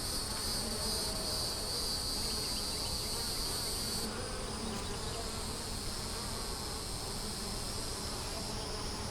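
Honey bees drone steadily at an open hive whose frames hold honey, nectar and pollen. The dense, continuous buzz comes from near and far, with no talking.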